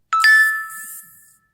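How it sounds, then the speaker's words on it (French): A phone message notification chime rings out once, a bright ding with a sustained tone that fades over about a second, heard alone in a quiet room. "attendez un petit instant que je contacte quelqu'un qui va m'envoyer un message, comme ça j'aurai une notification"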